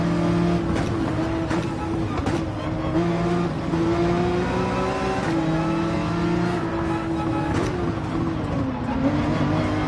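A Nissan Skyline race car in Gran Turismo 7 roars along at the Red Bull Ring, engine pitch climbing and dropping through gear changes, with a dip as it brakes, steady and close.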